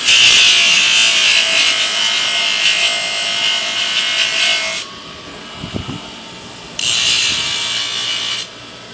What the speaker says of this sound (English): I can just clean it up with the grinder.